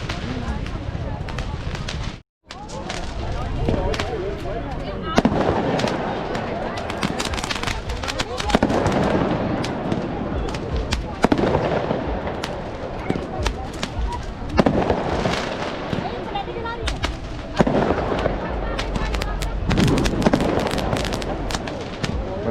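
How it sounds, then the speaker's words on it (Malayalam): Diwali firecrackers burst continuously in dense, overlapping volleys in Dubai, loud and close, with a brief silent gap near the start and voices faintly mixed in. "നല്ലോണം പടക്കം പൊട്ടുന്ന സൗണ്ട്"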